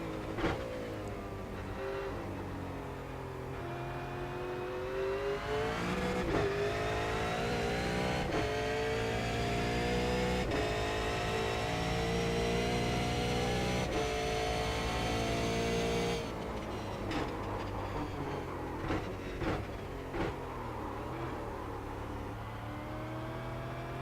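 Race car engine in a racing sim game, a steady high-pitched drone that climbs and drops through gear changes over a full lap, loud and continuous with no talk.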